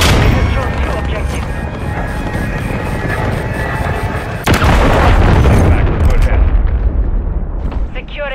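Heavy artillery explosions in a Call of Duty game fire mission: a dense, continuous roar of booms with a sharp blast midway, followed by more rumbling detonations, with voices in the background.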